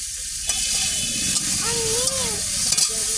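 A bay leaf drops into hot oil in a home kitchen pan and crackles into a steady loud sizzle, with a few sharp pops and stirring scrapes over the frying hiss.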